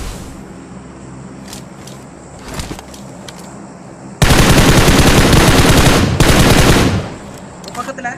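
Rapid automatic gunfire in PUBG on the Erangel map, a dense sustained burst of shots for about three seconds after quieter game ambience, loud and close.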